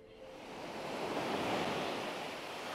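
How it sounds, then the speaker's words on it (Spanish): Ocean surf rolls ashore on a Honduran coast where the sea is eating away the land, a steady broad wash of breaking waves swelling slightly louder midway, with wind noise and no voices. "Que el mar viene para adentro, viene para adentro."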